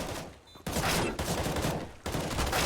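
Rapid bursts of automatic gunfire in Counter-Strike on the Inferno map, loud and dense with short pauses between sustained volleys, no voices over it.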